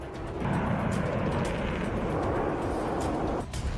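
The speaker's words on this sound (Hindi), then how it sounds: "यूक्रेन में फाइटर जेट की गर्जना सुनाई दे रही है।" A deep, sustained roar of a fighter jet engine over Ukraine, loud and rumbling for a few seconds with a broad, noisy texture before easing off at the end.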